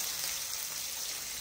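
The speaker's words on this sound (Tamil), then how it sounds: "அதையும் போட்டு நல்லா ஃப்ரை பண்ணிக்கணும்." Sliced capsicum frying in a pan for dragon chicken, a continuous bright sizzle at moderate level, steady and close with no talking.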